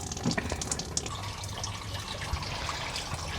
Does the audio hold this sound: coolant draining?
yes